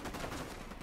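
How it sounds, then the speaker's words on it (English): Enemy gunfire in the video game Ghost Recon Wildlands, a dense crackle of rapid shots filling a brief burst at moderate level with no talk. "Ah, those Unidad over there are shooting at me."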